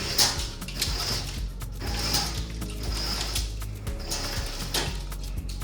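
A bedroom window shade in a high-rise apartment is pulled down, giving a close, continuous ratcheting, clicking mechanism sound with faint creaks over a low rumble.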